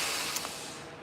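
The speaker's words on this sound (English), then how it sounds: "Sorry, the trash truck. And he's going to make a lot of noise." A garbage truck collecting trash nearby gives a steady broadband hiss and rumble, like hydraulic or air-brake noise, with a couple of brief knocks, moderately loud outdoors in a garden.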